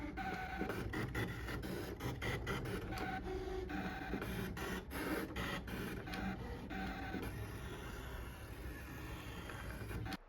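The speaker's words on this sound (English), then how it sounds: "this is what the machine sounds like" Close and steady, a Brother Scan N Cut cutting machine whirs and chatters as its motor moves in repeated short bursts and clicks, running on its own without anyone talking.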